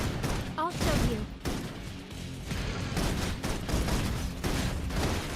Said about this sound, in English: Requesting full suppression gunfire.